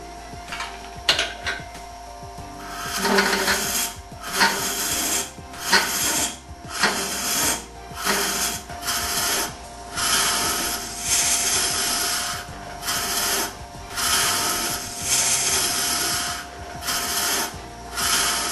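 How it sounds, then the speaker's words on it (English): Robert Sorby Ultima hollowing tool cutting into wood on a lathe, a rough scraping rasp that comes in repeated bursts of varying length with short pauses, close and moderately loud throughout. "We will continue to hollow, but make regular stops to clear shavings and check our progress."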